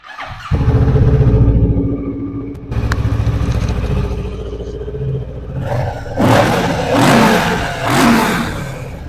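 A Kawasaki Z900 motorcycle engine starts and idles with a deep rumble, then revs up in several loud throttle blips near the end.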